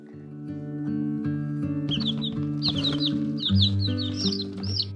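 Homestead chickens clucking close by in spring, a busy run of short overlapping clucks and chirps over a steady low humming background.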